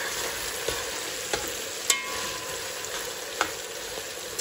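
Garlic and meat fry in a hot pan, a steady close sizzle broken by a few sharp clicks and scrapes as a utensil stirs them, with no talking.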